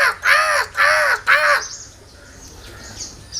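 Three loud, close crow caws imitated by a human voice come in an even rhythm, followed by near silence with faint background noise.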